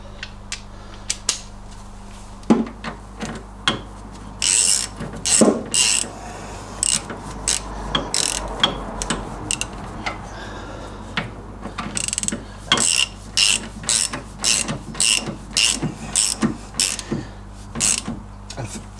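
A ratchet wrench tightens a wishbone bolt on an MGB front suspension, heard as close clicking bursts of pawl ratcheting, mixed with metallic clinks and handling noises in a quiet workshop.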